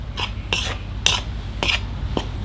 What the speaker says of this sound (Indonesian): Kita kasih sedikit garam dan kaldu bubuk. Kita aduk sampai merata.